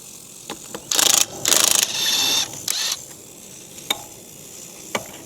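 Mechanical clanking and ratcheting from a jack lifting a damaged trailer during a repair, a few loud bursts of clatter in the first half followed by scattered sharp clicks, with no talk.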